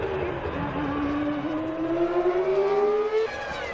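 Formula 1 race cars of 1998, including Schumacher's Ferrari, at the Canadian Grand Prix in Montreal, a loud high engine whine rising steadily in pitch as a car accelerates down the straight, with faint voices underneath.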